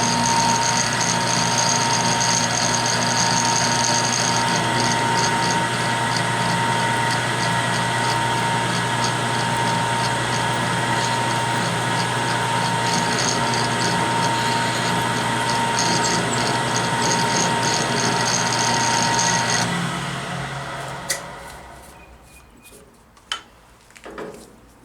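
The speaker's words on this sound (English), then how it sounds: "I'm all set up to drill my tap drill for the 1/4 20, which is a number 7 drill." A drill press bores a tap hole with a number 7 drill for a 1/4-20 thread, running as a loud, steady whine for about twenty seconds before spinning down, followed by a few sharp clicks and knocks.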